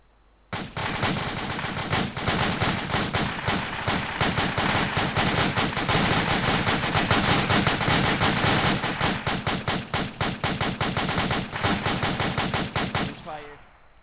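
One full magazine of rifle fire is shot straight up during squad leader training: a long, loud, rapid string of close shots that runs steadily for about twelve seconds and then stops abruptly.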